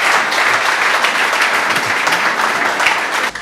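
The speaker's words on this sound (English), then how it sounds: "So I want you to please appreciate him with a whole round of applause." Steady, close applause from an audience for a guest speaker at a mentorship talk, dense even clapping throughout that cuts off abruptly at the end.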